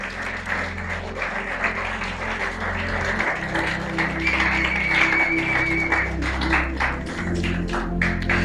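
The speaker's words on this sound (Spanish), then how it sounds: "Acompáñenme a dar un aplauso a Dios por la vida de nuestros pastores." A church congregation gives sustained, lively applause for its pastors, many hands clapping densely over a steady low sustained musical tone from the sanctuary.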